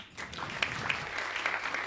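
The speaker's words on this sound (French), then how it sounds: "célibataires dans la salle par applaudissement" An audience applauds steadily for a couple of seconds, a dense patter of many hands clapping with a few sharper claps standing out.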